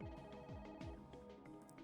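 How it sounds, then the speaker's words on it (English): A phone in the game Parasite Eve rings in a quick, repeating electronic pattern. The trills are faint but rhythmic and run without a break, with no talk over them. "Why it rings when I am calling it, I don't know."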